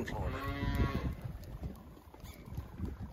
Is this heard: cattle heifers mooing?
yes